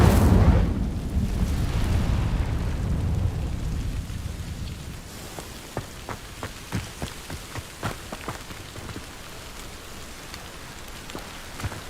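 An Incendio fire spell cast in Hogwarts Legacy bursts out as a loud roaring whoosh, fading over several seconds into crackling, then scattered sharp pops and snaps of burning in the quieter tail.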